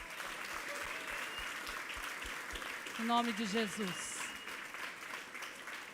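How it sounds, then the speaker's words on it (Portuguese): Church congregation clapping steadily after a sermon, dense applause filling the room throughout while a preacher's voice speaks briefly over it. "Louve o Senhor com as suas palmas."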